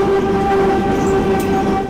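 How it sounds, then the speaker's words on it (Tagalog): A train rumbles steadily over rails running directly above homes, a loud, continuous close-up roar with a sustained tonal hum of wheels and track throughout and no speech. "Ayan na, yara-yara, nanginginig na. Maalog yung tren"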